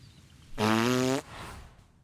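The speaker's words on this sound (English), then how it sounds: "Fart noise." A single loud, buzzy fart noise lasting about half a second, sharp and close, rising out of quiet background and fading off after.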